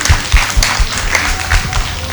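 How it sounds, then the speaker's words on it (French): Audience applause at an evening event in Guinea, a short burst of loud, close rhythmic clapping from a crowd. "Ça s'applaudit, ça."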